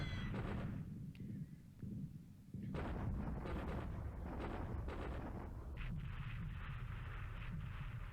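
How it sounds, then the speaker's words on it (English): Bombing raid on an airfield at Batavia in the War in the Pacific strategy game, a dense rumble of overlapping explosions and heavy blasts rolling continuously at low volume, with no talk. "now we got a bombing raid hitting Batavia, and I'm targeting the airfield"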